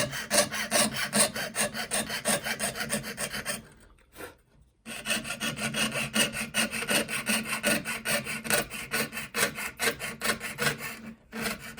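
A fine saw rasps in rapid, steady back-and-forth strokes, close and continuous, pausing briefly once before resuming.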